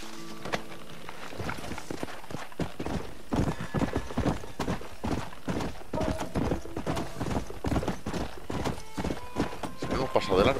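Horse hooves clip-clopping steadily in the Red Dead Redemption video game, a loud, close, rhythmic trot over game ambience, with a brief whinny-like sound and someone talking over it.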